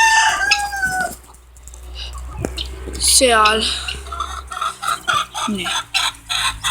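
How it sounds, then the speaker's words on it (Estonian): Backyard chickens, pearl-grey hens and a bantam rooster, cluck loudly near the microphone while the rooster crows partway through, with a person speaking briefly between the calls. "See on meie kanad, perlikad."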